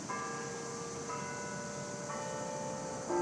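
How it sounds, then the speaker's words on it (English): Church bells ring steadily with sustained, overlapping tones and a constant hum, heard alone without speech for a few seconds. "see the bells"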